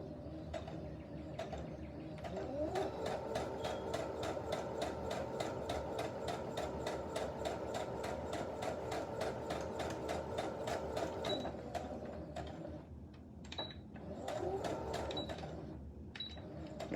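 Sewing machine stitching a fabric face mask, a steady rapid mechanical clatter running for about eleven seconds, pausing briefly, then starting again in short bursts.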